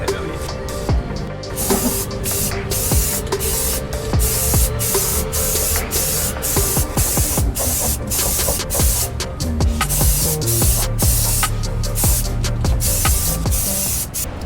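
Self-etching primer sprayed from an aerosol paint can onto rusty Jeep Comanche floors, coming as a rapid series of short hissing bursts separated by brief gaps, close and loud throughout.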